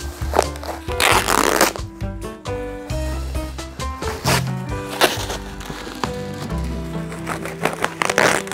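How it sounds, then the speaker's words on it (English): Packing tape is pulled and torn off a cardboard box during an unboxing, with several loud ripping strips and crinkly handling noises close to the microphone over a few seconds. "Of course, we have to remove the tapes."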